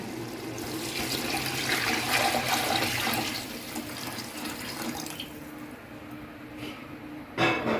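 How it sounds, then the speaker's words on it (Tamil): Water pours steadily from a vessel into a pot of rice for cooking, a continuous splashing gush that thins out and stops near the end, followed by a brief clatter. "இப்போ நான் வந்து தண்ணி விட போகிறேன் பாருங்கள்"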